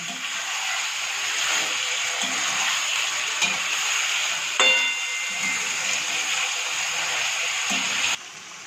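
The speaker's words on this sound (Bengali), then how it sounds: "একটু চিকেনটা আর পেঁয়াজটা হালকা করে ভেজে নেব।" Chicken pieces and chopped onion fry in a pan for a Bengali chicken and potato curry, giving a steady, close sizzle and hiss that runs throughout, with a few faint scrapes of stirring, before the sound drops off abruptly near the end.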